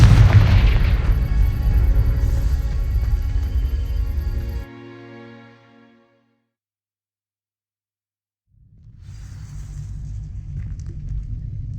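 A Confringo fire spell in Hogwarts Legacy sets dry vines ablaze with a loud, deep booming blast and rumbling crackle that decays into a ringing tail, then silence, before low ambience returns.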